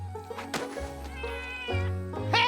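Cartoon cats in an animated pony series meow several times, with drawn-out wavering cries that rise near the end, loud and close over a steady musical background.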